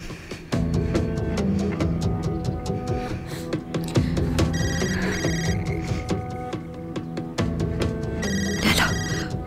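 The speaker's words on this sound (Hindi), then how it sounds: "ये रिंगटोन तो हुरिया के फोन की है।" A mobile phone ringtone plays as a repeating electronic melody with tonal chimes and a throbbing rhythmic beat, fairly close and steady, inside a drama scene with background music.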